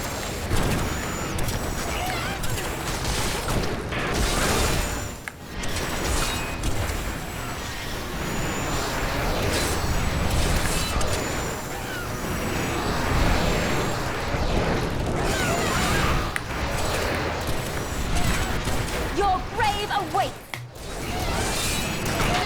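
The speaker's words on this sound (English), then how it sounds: "Oh, those explosions!" Dense booming blasts and whooshing spell effects from the Diablo 3 video game churn almost continuously, loud and close, with brief dips, under a player's occasional talk.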